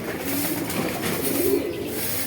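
Pigeons coo in a low, steady murmur through an afternoon loft, several birds overlapping in a continuous hum with no talk.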